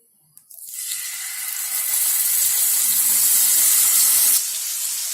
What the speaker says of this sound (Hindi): अब हम इसमें पनीर फ्राई करेंगे।